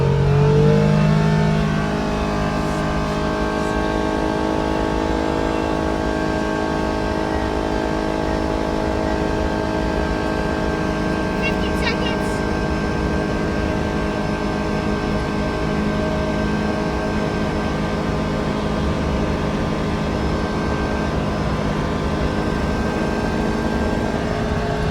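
A 2024 Polaris Ranger 1500 Northstar and a Can-Am HD11 UTV in sport mode accelerate from a standing start, their engines droning steadily and loudly, sustained for a long stretch with a rising whine, and no talk.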